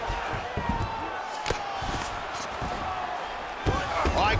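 An arena crowd in a UFC 5 video game fight simulation keeps up a continuous roar, with occasional hard thuds and slams cutting through near the start and end.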